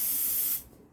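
An aerosol spray can sprays in a short, loud burst of hissing that stops abruptly after about half a second, used in a beam-making workshop.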